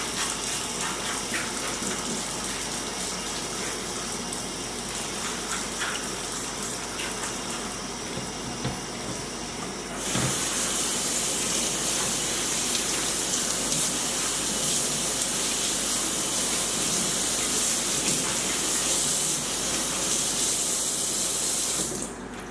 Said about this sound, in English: Let's wash these. Just quick rinse with some vegetable wash